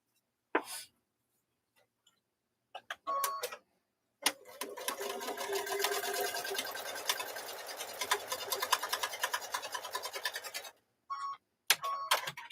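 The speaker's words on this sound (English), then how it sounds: "we're just going to stitch down that seam right there" A sewing machine stitches down a quilt seam joining two squares, starting with a few short taps, then a long steady run of rapid close stitching before a few final stops and starts.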